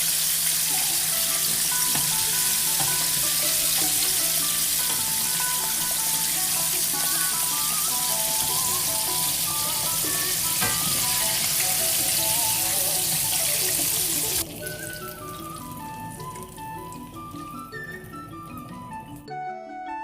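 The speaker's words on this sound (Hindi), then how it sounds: "ये देखिए हमने चिकन को 7 से 10 मिनट के लिए पकाया है, जो कि हाफ फ्राइड है।" Chicken frying in oil until half cooked, a loud continuous bubbling sizzle up close that drops away abruptly near the end, leaving quieter kitchen noise.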